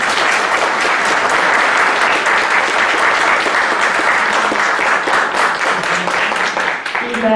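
Sustained, loud audience applause fills a lecture hall at a legal conference on testamentary and intestate succession, steady clapping from a large crowd that thins slightly near the end.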